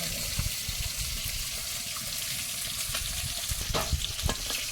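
Koi fish frying in a pan of hot oil, a loud continuous sizzle and crackle close up, with occasional stirring clinks and spatters throughout and no talk.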